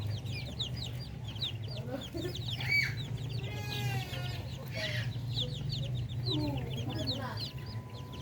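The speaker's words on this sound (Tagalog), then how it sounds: "At meron pa tayo dito mga Pinoy yung ating mga sisiw dito." Native Filipino darag chicks peep constantly in high, rapid chirps close by, over a low steady hum, with a few clucks from larger birds mixed in.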